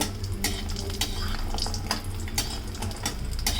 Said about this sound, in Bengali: তেলটা গরম হয়ে গেলে কয়েকটা বড়ি দিয়ে দেব বড়িগুলো একটু ভেজে নেব